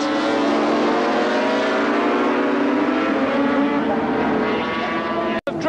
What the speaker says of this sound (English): right behind him as Baker goes through, and there is the style of the 20-year-old English rider from the Midlands as he goes into Surtees